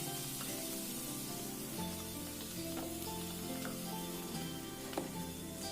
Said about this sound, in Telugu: బీన్స్ ఫ్రై చేస్తున్నాను.